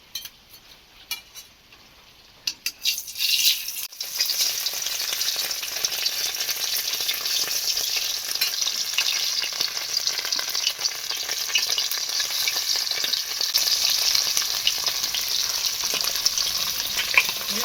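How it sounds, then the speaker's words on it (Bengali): Eggs frying in hot oil, a quiet start with a few light clicks, then a loud, dense, continuous sizzle that holds steady to the end. "তেল গরম হয়ে গেছে, এবারে আস্তে আস্তে ডিমগুলো এরকম করে ভেজে নেব।"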